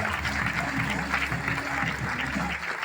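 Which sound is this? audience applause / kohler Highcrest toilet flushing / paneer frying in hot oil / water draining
audience applause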